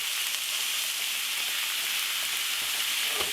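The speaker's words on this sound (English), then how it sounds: "We're going to let this cook until it browns." Ground beef for beef tinaktak fries and browns in a pan, producing a loud, steady, close sizzle with faint stirring scrapes near the end. No one talks.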